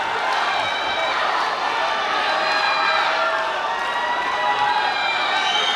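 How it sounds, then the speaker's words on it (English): Loud, sustained crowd cheering and shouting at a night wrestling bout in Pasighat, a dense roar of many voices carrying steadily throughout with no clear pauses. "And the crowd goes wild."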